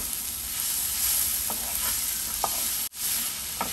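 A dry vegetable dish of taro leaves with jaggery and tamarind is stirred in a hot pan, giving a continuous sizzle with occasional spoon scrapes, broken briefly by a cut.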